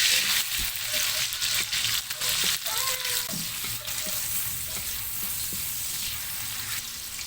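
Onion sizzles in a hot pan for chicken adobo with annatto, a dense continuous frying hiss up close, with a few stirring knocks early on and no talk.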